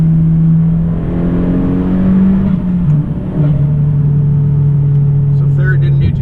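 A turbocharged Honda Civic running extra boost on ethanol pulls hard through third gear, the engine note climbing in a steady loud whine, briefly dipping at a shift, with a voice talking over it.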